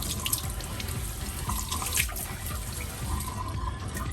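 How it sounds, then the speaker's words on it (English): A faucet runs into a sink as water streams down an arm being washed for tattoo aftercare, a steady nearby splash and trickle heard alone. "Let the water run down the arm."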